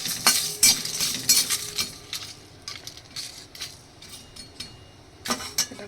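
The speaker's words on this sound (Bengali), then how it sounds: "আমি এগুলি একটু ভাজা মশলা করে নিই" Bay leaves, dried chillies, fennel and cumin dry-roasting in a pan, stirred with a utensil that gives intermittent close clinks and scrapes against the metal, with a few sharper bursts at the start and end.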